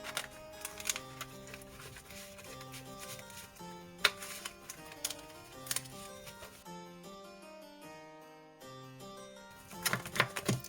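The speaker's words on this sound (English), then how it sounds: "we are going to shuffle up again and then play another round" Shadowverse Evolve trading cards are shuffled and riffled in quick rustling bursts, close and fairly quiet, over soft background music.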